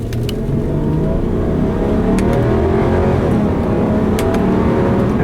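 A 2011 Subaru Legacy 3.6R runs with a steady, close engine drone, and a few sharp clicks from the paddle shifters are followed by a sluggish, delayed gear change.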